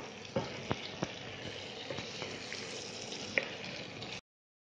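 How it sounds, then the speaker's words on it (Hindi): Cubed eggplant tipped into a pan of potatoes frying in spices and stirred through, giving a steady oily sizzle with a few sharp clacks of the spoon against the pan, close and alone. "अब इसमें डाल देंगे हम बैगन डालकर हम अच्छी तरह चला देंगे इसको"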